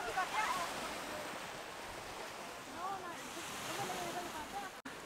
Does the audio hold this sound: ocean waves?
yes